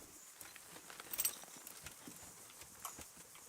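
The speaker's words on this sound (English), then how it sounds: "Whose horse is called Lucifer?" Horse hooves clip-clop in the medieval video game Kingdom Come: Deliverance, a faint, irregular patter of steps with a slightly louder cluster of hoofbeats, heard alone at low volume.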